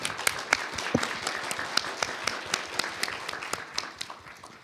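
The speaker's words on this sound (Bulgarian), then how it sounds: "с ръкопляскания за нея" Applause from an audience at a Reinventing Organizations event in Sofia, many hands clapping steadily with sharp individual claps standing out, moderately loud and continuous throughout.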